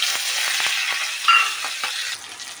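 Cumin, chopped onion and a green chilli fry in oil in a pan, a bright, continuous crackling sizzle close up with occasional stirring knocks, fading a little toward the end, with no speech.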